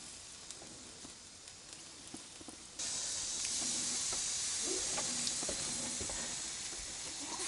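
Sauced ribs sizzling on a barbecue grill, a steady broadband hiss that jumps louder partway through and holds as an even, close, continuous fry with faint crackles, no voices.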